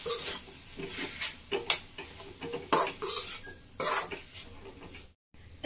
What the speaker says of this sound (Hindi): तो अब हम इसमें डालेंगे टमाटर जो हमने कट करके रखा हुआ था। और अच्छे से मिला देंगे।